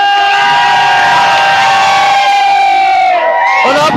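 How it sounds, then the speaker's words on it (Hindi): A crowd at a strength challenge event cheers loudly, with sustained shouts and whoops rising together, close and dense, ending in a final burst of excited yelling. "और अब किलकिया और तालियां"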